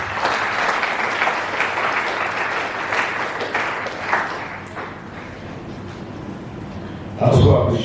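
Sustained audience applause at a Delta State government anti-drug campaign launch event, a steady dense clapping wash from a large crowd that fades slightly before a louder burst near the end.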